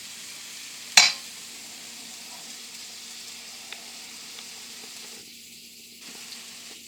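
A hamburger patty sizzles in a hot black iron skillet, a soft, steady frying hiss heard close up after a sharp clack at the start.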